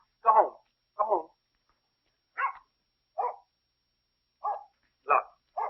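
A dog barks in short separate bursts, seven sharp barks spaced unevenly over several seconds, close and clear against silence.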